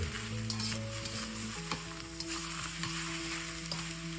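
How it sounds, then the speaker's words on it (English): Rice coated with egg being stirred and folded in a frying pan, a steady sizzle with soft scraping strokes at an even rhythm, close and fairly quiet, with no talking. "Stir, fold, stir, fold."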